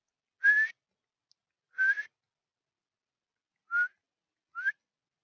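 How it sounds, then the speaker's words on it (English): A person whistles four short, clear notes, each sliding upward in pitch, spaced apart by silent gaps, close and alone. "Try and whistle."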